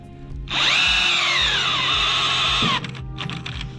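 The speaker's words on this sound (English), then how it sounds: "the drill gave out on me because I have it set on 7" A cordless drill with its clutch set to 7 cranks the raising mechanism of a Harbor Freight sawmill, whining loudly and steadily for about two seconds before the clutch slips and it cuts out, leaving faint clicking.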